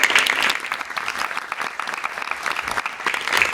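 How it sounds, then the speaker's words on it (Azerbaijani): Theatre audience applauding teachers at an event in a state musical drama theatre, a lively crowd clapping with fluctuating intensity and a few sharper claps rising above the steady roar. "Onlara da çox böyük alqış düşür."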